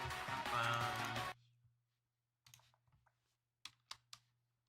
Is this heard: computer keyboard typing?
yes